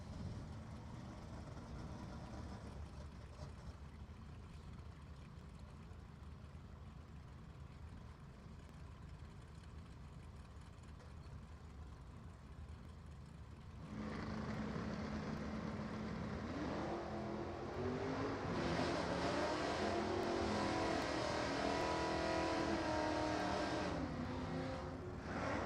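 Drag racing cars at an NHRA divisional event roar steadily from a distance, the engine noise swelling louder and rising in pitch midway as the cars launch and accelerate down the strip.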